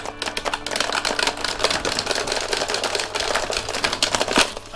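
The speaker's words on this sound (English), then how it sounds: "It makes a lovely squishy sound when you press the buttons." Plastic buttons on a Guitar Hero game controller clicked in a fast, continuous stream of soft, squishy taps, close up and fairly loud, with no talking.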